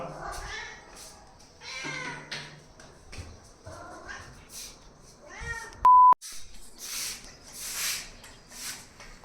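Several cat meows come one after another on a dairy farm, broken by a short electronic beep, with some soft voices and shuffling in between.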